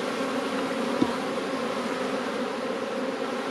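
Honey bees buzzing around an opened hive during a July honey flow, a dense continuous hum close by with one brief tap.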